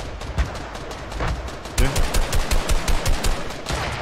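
Rapid automatic gunfire bursts in the Fortnite video game, loud and close, with repeated shots and a sharp volley in the second half, over a faint background of talking.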